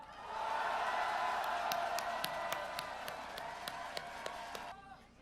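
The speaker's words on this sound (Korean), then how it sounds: "우리 모두 뜨거운 함성 박수 보냅시다." A large outdoor rally crowd at Gwanghwamun roars with cheers and applause in a sustained wash of voices and clapping, with whistles and whoops cutting through, fading out near the end.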